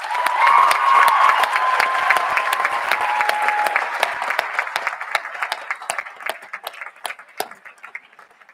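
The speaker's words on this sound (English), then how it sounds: "we give them a huge round of applause" A school speech day audience gives a long, loud round of applause for year 11 prize winners. The dense clapping stays steady at first, then thins out and fades away.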